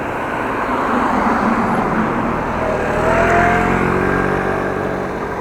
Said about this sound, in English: Just waiting on traffic.